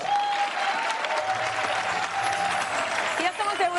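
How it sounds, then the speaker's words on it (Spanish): A television studio audience breaks into sustained, dense applause on cue, loud and continuous throughout, with a voice briefly audible over it. "¡Cinco, cuatro, mando... aplausos!"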